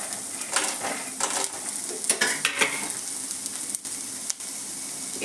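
Peanuts are tossed into sautéed onions in a pan for kanda poha and stirred. A continuous loud sizzle of frying runs throughout, with several sharp scraping and clinking stirs of a spoon against the pan.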